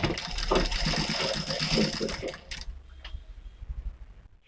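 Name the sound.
sewing machine stitching a Katori cut blouse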